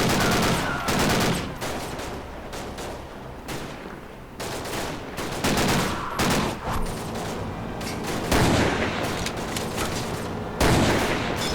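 Rapid gunfire in the Commandos Strike Force video game, dense bursts of loud automatic shots with short pauses between volleys, heavy and close throughout.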